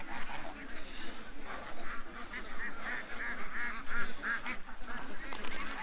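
A flock of ducks in a yard beside a creek keeps up a continuous mix of quacks and honking calls, busy and close, with several sharper calls near the end.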